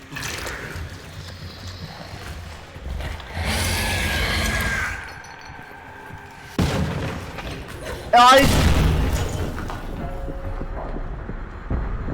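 A grenade goes off in the horror game Amnesia: The Bunker, a loud close blast that follows shuffling and rumbling game sounds and is followed by further movement and clatter.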